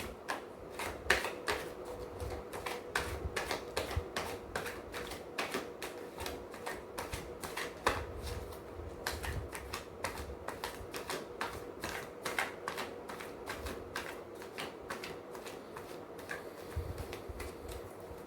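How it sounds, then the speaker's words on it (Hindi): Tarot cards being shuffled, a long run of rapid, crisp riffling clicks in quick repeated bursts, close up and fairly quiet, with no talking. "जब मैं कार्ड शफल करूंगा प्लीज शफलिंग के साथ खुद को कनेक्ट कीजिएगा"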